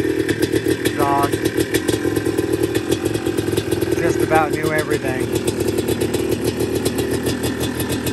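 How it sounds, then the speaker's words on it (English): A restored 1989 Yamaha Blaster ATV's small two-stroke engine with a full FMF exhaust idles and runs with a rattly, buzzing tone, steady throughout, while someone talks over it. "1989 Yamaha Blaster, completely restored, full FMF exhaust"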